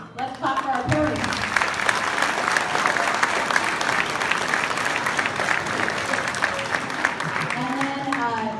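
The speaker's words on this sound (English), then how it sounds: "Let's clap for our parents." An audience at a school show applauds the parents with sustained, full clapping from a crowd, with a voice talking over the start and end.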